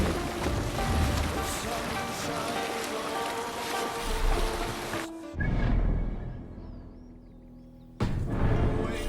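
A sailing ship moves over the water in Assassin's Creed Valhalla, with a dense wash of wind and waves, broken by an abrupt cut to quieter water before the full rush returns.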